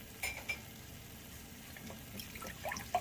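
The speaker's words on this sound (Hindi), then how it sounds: "1 कप पानी सिर्फ ऐड करूँगी।" One cup of water is poured into a cooking pot holding jaggery, a soft splashing pour with a few light clinks of utensils against the vessel.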